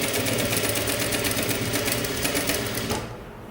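A sewing machine stitching one centimetre around a kimono jacket strap, a loud close rapid whirring run that stops abruptly near the end, leaving quiet.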